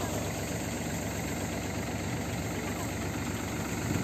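Vehicle engine idling steadily, a constant low rumble with a faint vibrating texture, heard on its own without talk.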